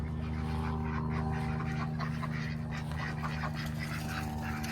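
Ducks quack in a garden on an agroforestry farm, steady and moderately distant under a constant low background hum, with no talking.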